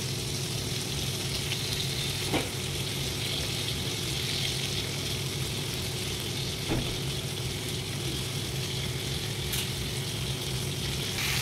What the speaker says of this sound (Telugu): ఇప్పుడు ఈ ఉల్లిగడ్డ పేస్ట్ అంతా వేసేసుకోవాలి